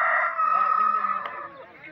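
A rooster crows loudly at a livestock and poultry market, one long drawn-out call filling most of the clip and then fading, with faint market bustle underneath.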